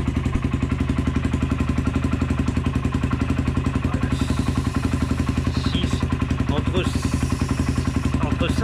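A quad ATV engine runs steadily, a close, rhythmic idle thump with a fast regular pulse and mechanical clatter throughout, while someone talks over it.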